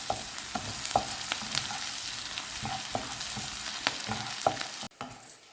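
A spice mixture fries in a pan for fish molee, a continuous near sizzle with regular knocks and scrapes of a spoon stirring, cutting out abruptly near the end.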